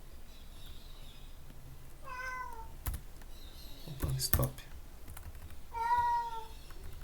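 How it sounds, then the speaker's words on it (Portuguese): A cat meows twice, with clear, fairly close calls several seconds apart, alongside keyboard clicks and a man's brief spoken words in a home office. "E o gato tá aqui também."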